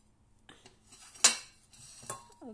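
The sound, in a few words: dishes and pots clattering while putting food into a bowl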